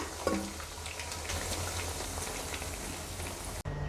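Onion vadas (ulli vada) frying in hot oil over medium heat, a steady bubbling crackle with a faint clink near the start, cutting off abruptly just before the end.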